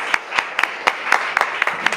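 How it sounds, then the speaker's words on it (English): A small audience at a graduation ceremony claps in a loose, sparse rhythm, with about a dozen distinct, close hand claps spread evenly over two seconds. "we'll give her a round of applause"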